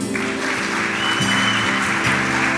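A church congregation applauds in a sustained, dense roar of clapping over a held musical tone, loud and continuous throughout.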